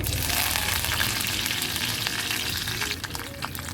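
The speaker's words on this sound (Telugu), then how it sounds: "ఇప్పుడు నేను ఆవాలు జీలకర్ర వన్ టేబుల్ స్పూన్ వేసిన తర్వాత కొద్దిగా కరివేపాకు వేయండి" Mustard seeds, cumin and curry leaves fry in hot oil, a loud, continuous sizzle with occasional crackles and pops and faint stirring, close up.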